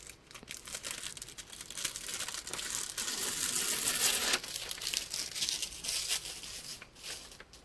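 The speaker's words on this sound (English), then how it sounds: "we will peel off the plastic top" Plastic top sheet being peeled off a Xyron sticker maker, a close, continuous crinkling and crackling rustle that swells toward the middle and carries on steadily, with no talking.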